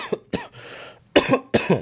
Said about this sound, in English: this shit got me coughing